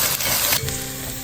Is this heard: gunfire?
no